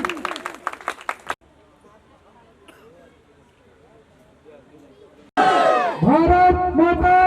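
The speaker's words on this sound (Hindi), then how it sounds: "निवेदन करूंगा ताली थोड़ा तेज जरूर बजाएं" An audience at an anti-corruption organization's gathering claps in a short, lively burst, then falls quiet before the crowd erupts into loud, sustained chanting and shouting.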